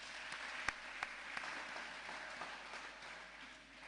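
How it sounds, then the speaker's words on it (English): A faint, distant spread of applause rolls on steadily in a hall, with a few sharper claps standing out near the start before it fades slightly. "Can we please give them a round of applause?"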